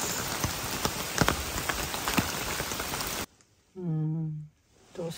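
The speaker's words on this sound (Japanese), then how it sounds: "天気がずっと雨降ってます。" Rain falls steadily on Rishiri Island in Hokkaido, a close, dense patter with scattered louder drops for about three seconds, then cuts off abruptly, followed by a brief sustained voice and a short burst of noise.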